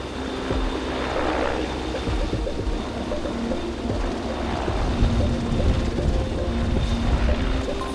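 A helicopter comes in to land on open ground between mountain ridges during a wilderness rescue exercise, its loud, continuous rotor and engine roar holding steady and close throughout, with no voices.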